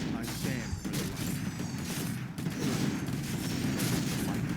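Mortar teams in Warcraft 3 pound away in a siege attack, with repeated booming impacts and crashes over a busy battle din, and a voice talking faintly beneath.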